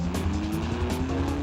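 A stolen car being chased by police roars along at speed, tyres squealing, as a lorry swerves in front of it, one short, loud burst of engine and skidding with no talk.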